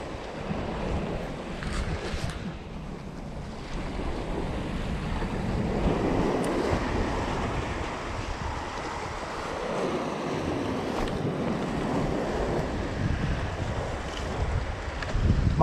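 Rough sea waves break along the shore at a shore jigging spot, a steady loud surf wash mixed with heavy wind buffeting the microphone, with no talk.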